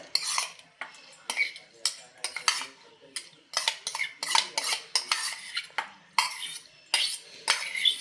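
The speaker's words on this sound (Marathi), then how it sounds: "ही डाळ ह्या मिक्सरच्या भांड्यामध्ये काढून घेऊयात" A spoon repeatedly scrapes and knocks drained moong dal into a mixer jar, a rapid series of close metallic clinks and taps in an uneven rhythm, with no voices.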